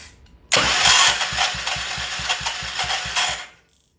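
A Troy Bilt Pony rototiller engine, freshly sprayed with carb cleaner, sputters to life and runs roughly with a loud, rapid, uneven chugging for about three seconds before cutting out, with no talk over it.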